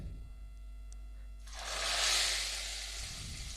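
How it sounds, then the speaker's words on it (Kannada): Hot tempering hits a pot of tomato rasam with a sudden loud sizzle that swells, peaks and then settles into a softer hiss, preceded by a quiet kitchen background. "ಈಗ ಒಗ್ಗರಣೆ ಮಾಡ್ಕೊಂಬಂದಿರೋದನ್ನು ನಾವೀಗ ರಸಮ್ಗೆ ಒಗ್ಗರಣೆ ಹಾಕೋಣ"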